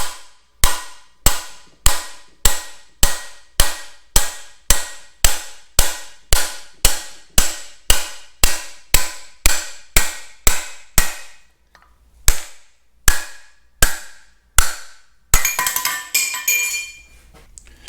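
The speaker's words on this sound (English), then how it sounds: "Using the driver once again, let's take this bushing out next." Bushing driver struck repeatedly with a hammer to knock a bushing out of a tractor's front bolster: a fast, steady series of sharp metallic clanks, a brief pause, a few more hits, then a rattling clatter.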